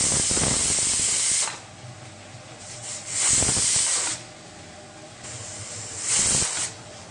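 Pressure cooker on a high gas flame, cooking moong dal with pumpkin stalks, releasing three loud bursts of hissing, whistling steam, each about a second long, separated by quieter stretches of low hiss. No one speaks.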